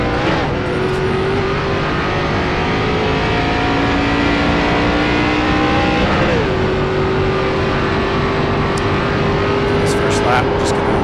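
ARCA race car in the iRacing simulator at Charlotte, its engine note climbing steadily under full throttle, a brief dip around the shift before pulling up again, loud and continuous throughout with someone talking over it.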